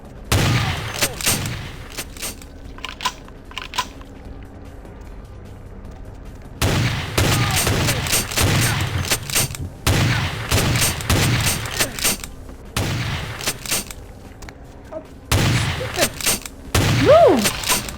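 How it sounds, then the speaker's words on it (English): Repeated shotgun blasts from a fight in the video game Vampire: The Masquerade – Bloodlines, coming in loud bursts of several shots separated by quieter gaps, with faint background ambience between volleys. "For just having a shotgun fight in here."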